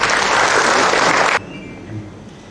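An audience at a national cultural symposium applauds loudly and steadily for about a second and a half, then stops abruptly, leaving quiet room tone.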